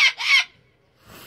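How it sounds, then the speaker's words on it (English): A cockatoo held in the hand gives two loud, harsh screeching calls close to the microphone, then falls quiet before faint background noise returns. "I got a bird in my hand"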